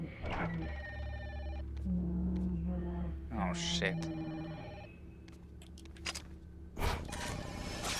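A telephone rings with repeated electronic tones in the horror video game Fatal Frame 5: Maiden of Black Water, while someone talks and exclaims over it.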